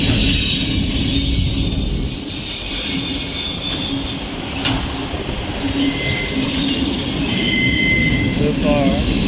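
A CSX westbound freight train of autorack cars rolls past at Ijamsville in a steady, loud rumble, with wheel squeal rising and falling and a faint clickety-clack throughout.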